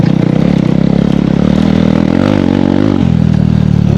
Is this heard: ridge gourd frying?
no